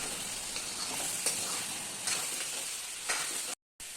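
Chunks of ash gourd fry in a pan, a steady low sizzle with a few light scrapes from stirring, and then a brief moment of silence near the end.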